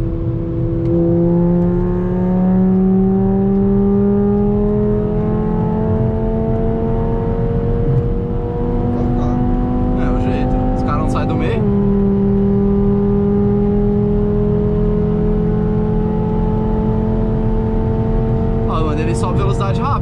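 A Volkswagen Jetta five-cylinder with a straight exhaust accelerates from inside the cabin, a steady droning engine tone rising in pitch, dipping briefly at a gear change around midway, then climbing again, with people talking over it.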